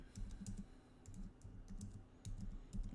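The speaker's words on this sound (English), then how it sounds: "But let me type this in." Keys clatter on a computer keyboard in quick, uneven bursts of typing with brief pauses between them, close by and fairly quiet, over a faint low background hum, with no voices.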